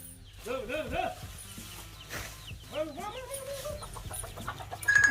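Chickens cluck in short, rising bursts nearby, several calls in quick succession, with a voice speaking softly among them.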